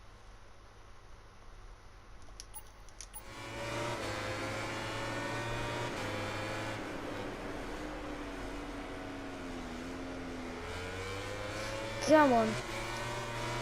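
Suzuki racing motorcycle engine in the video game MotoGP 19, racing at the Thai GP: a steady, buzzing high-revving drone that rises and falls with gear changes, with a brief voice over the top.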